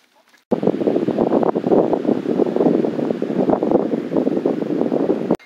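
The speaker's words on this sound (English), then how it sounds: "Hopefully you can hear me over the wind." Strong wind buffets the microphone outdoors at a site where a duck run is being built, a loud gusting roar that keeps going after a brief quiet start.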